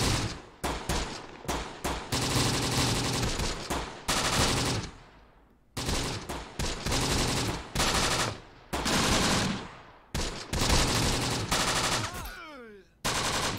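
.30 cal machine gun fire from a Close Combat: The Bloody First battle, heard as loud, rapid bursts of automatic shots, each lasting a second or two with sharp clattering reports, separated by short pauses and ending in a decaying echo.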